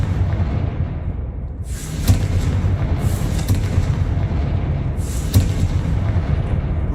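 Confringo explosive spell blasts in the Hogwarts Legacy video game: two sharp booming impacts a few seconds apart, loud and close, over a steady low rumble with no talking.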